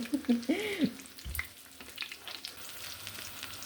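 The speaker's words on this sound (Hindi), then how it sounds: "देखें जी माशाल्लाह कितने प्यारे प्यारे रेड रेड फ्राई हो रहे हैं।" Potato cutlets frying in hot oil give a soft, close sizzle with a few stirring scrapes and clinks, starting louder and settling into a faint steady crackle, with no one speaking.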